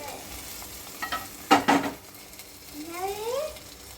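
Raisins and cashews fry in a pan with a soft, close sizzle, interrupted by a couple of brisk scraping stirs of a spoon against the pan.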